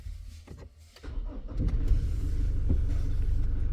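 A car engine cranks and catches, then settles into a steady low rumbling idle close by after a quieter moment of faint clicks and shuffling.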